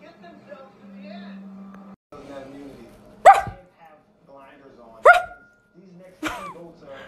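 A dog answers a person's imitated barking: a human voice mimics barks, then three sharp, loud, close barks ring out at intervals amid a quiet indoor setting, with some voice sounds between them.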